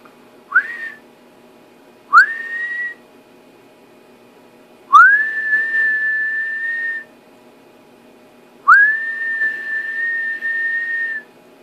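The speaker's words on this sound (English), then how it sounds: "So you can see my whistle almost drives 5 watts out of this sucker." A person whistles into the microphone of a newly built PA preamp driving a 612 transmitter, four sustained rising whistled notes, each starting with a quick upward swoop and holding steady, separated by pauses with faint background hiss.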